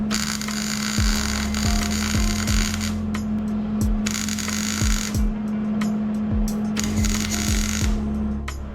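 Short stitch welds laid on metal, a buzzing, crackling arc that runs for a second or two, stops, and starts again in repeated bursts, with a steady hum and mechanical clicks between passes.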